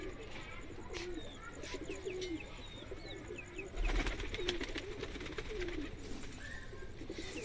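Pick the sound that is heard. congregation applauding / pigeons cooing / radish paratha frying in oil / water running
pigeons cooing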